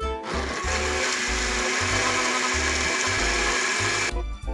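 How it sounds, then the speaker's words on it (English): A cartoon blender making a smoothie runs loudly and continuously, its motor whirring with a rhythmic pulsing churn before shutting off abruptly near the end. "You'll have to push the button on the front of the blender to blend the smoothie."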